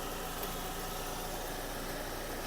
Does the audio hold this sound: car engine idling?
yes